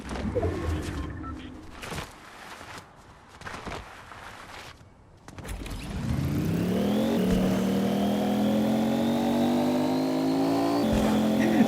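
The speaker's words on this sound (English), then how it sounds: "Cyclops driving around in this car looks ridiculous." Car in Fortnite Battle Royale driving around, first with scattered knocks and rumbles, then an engine revving up into a steady rising drone that holds loud and close, with a brief cooing bird sound mixed in.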